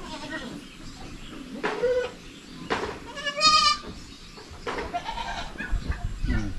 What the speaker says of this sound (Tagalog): Umiyak yung kambing natin, oh.